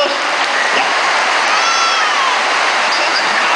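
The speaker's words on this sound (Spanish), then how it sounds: "¡Aplausos para ellos!" Audience applause at a shopping-centre children's show, a steady wash of clapping with faint cheering, close and continuous throughout without pauses.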